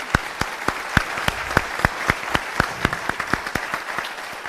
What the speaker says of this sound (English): join me in a warm round of applause for all of our panelists